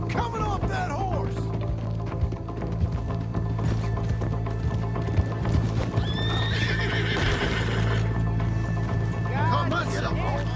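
Horse hooves clip-clop steadily under busy music and effects in Red Dead Redemption 2, with a horse whinnying partway through and voices shouting over the action.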